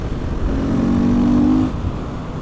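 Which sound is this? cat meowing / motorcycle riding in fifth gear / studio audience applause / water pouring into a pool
motorcycle riding in fifth gear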